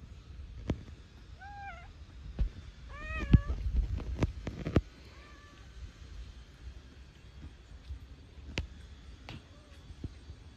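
A cat meows several times in short, separate calls, some rising and falling, close by and fairly clear over a quiet background with occasional sharp knocks and bumps.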